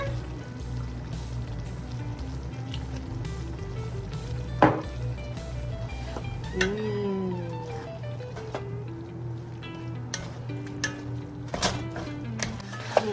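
Beef gravy thickened with flour simmers in a pan with a soft, steady bubbling sizzle, a low hum running beneath it and occasional clinks and stirring sounds.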